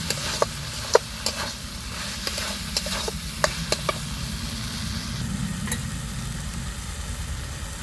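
Fried potatoes tipped into spice masala already sizzling in oil in a pan, giving a steady close frying hiss punctuated by scattered sharp clicks and scrapes as the pieces land and get moved.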